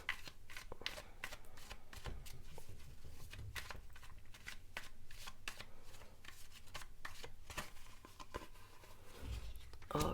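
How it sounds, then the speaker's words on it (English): Playing cards being shuffled in a tarot-style card-reading session, a close crisp run of riffling and sliding card snaps repeating through the whole stretch, with occasional soft handling thumps. "It's the last shuffle now."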